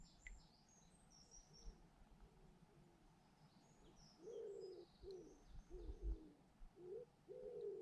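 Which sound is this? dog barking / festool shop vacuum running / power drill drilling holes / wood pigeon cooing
wood pigeon cooing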